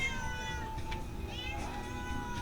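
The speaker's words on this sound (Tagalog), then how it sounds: "Ang pusa oh." A cat meows a few times near rice paddies during a hot midday lunch break, the cries clear but modest against steady low outdoor rumble.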